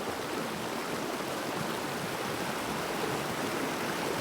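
A small mountain river rushes steadily near Palin in Arunachal, a constant broadband hiss of flowing water, close and even, with no voices.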